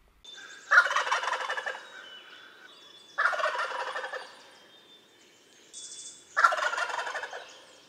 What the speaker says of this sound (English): A group of males will perform for the females, strutting and showing off and making the characteristic gobbling sound